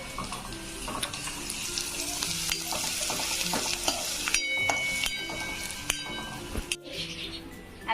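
Garlic and onion frying in a pan for a vegetable dish, a close, steady sizzle with frequent clinks and scrapes of a spatula stirring against metal, continuous throughout with no speech.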